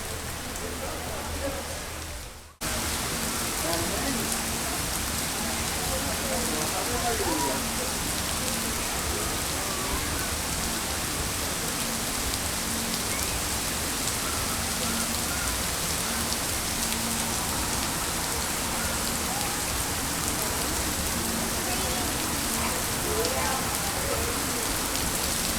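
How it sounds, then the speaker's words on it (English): Heavy rain pours steadily at Disney World, a dense, continuous hiss of drops on surfaces after a brief quieter moment at the start, with no talking. "So as I sit here watching the rain,"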